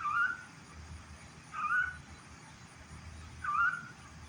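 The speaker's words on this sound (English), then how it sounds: "That sound don't sound like an ordinary bird, do it? It's like a big bird." A large bird calls outdoors among trees in a light breeze on a morning, giving three evenly spaced, whistle-like hoots that stand clearly above faint background hiss.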